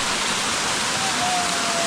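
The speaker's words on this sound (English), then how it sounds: "Guys, you know here you find many people in this waterfall." A village waterfall roars as a steady, dense broadband rush with no breaks, loud and close throughout.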